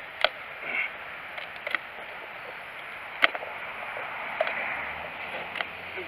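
A thin stainless steel Cold Steel Finn Bear knife cutting kindling from a piece of wood gives a few sharp, irregular snaps and clicks over a steady outdoor hiss.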